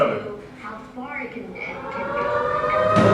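A Cold War–style air raid siren wails steadily, its rising and falling tone sounding under people talking throughout, loud and sustained.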